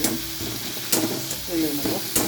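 Ginger paste dropped into frying onions in a pan, giving a close, steady sizzle with a few scraping stirs over a short stretch.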